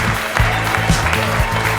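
An audience claps briefly, a dense wash of hands heard at close range, with a low rhythmic musical thump running underneath.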